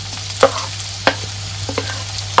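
Tomatoes tossed into a hot pan with oil while making butter poha, giving a few sharp clatters and stirring scrapes over a low steady sizzle, close and moderately loud.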